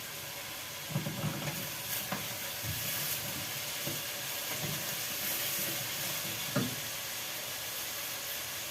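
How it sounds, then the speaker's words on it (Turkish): Onions and meat sautéing in a pan give a steady close sizzle and hiss, broken by a few soft stirring knocks and scrapes, with no voices. "Evet soğanlarımı da ilave ediyorum arkadaşlar. Etimle beraber sotelensin."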